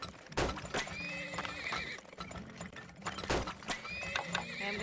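Horses whinny repeatedly in the oil-drilling game Turmoil, with loud neighs, snorts and clip-clopping hooves over a steady layer of game music and ambient effects.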